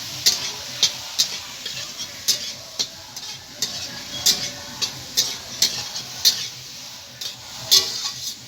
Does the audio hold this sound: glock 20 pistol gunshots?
no